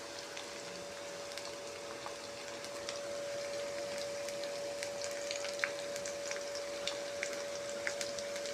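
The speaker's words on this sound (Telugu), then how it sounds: "కలుపుకున్నాక పెనం తీసుకొని అందులో కొంచెం చికెన్ ముక్కలను వేసుకోండి వీడియోలో చూపిస్తున్నట్టు." Chicken pakoda pieces fry in a pan with a steady, even sizzle and scattered small pops and crackles, with no pauses from start to end.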